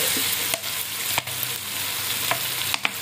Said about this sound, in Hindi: इसके अंदर चिली सॉस और सोया सॉस डालते हैं, चम्मच हम हिलाए जाते हैं।